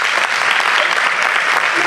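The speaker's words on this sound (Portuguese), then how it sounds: "São palmas para o Colégio São Miguel" Dense, steady applause from a crowd at a teachers' pedagogical conference, greeting Colégio São Miguel; loud and continuous throughout, with no pauses.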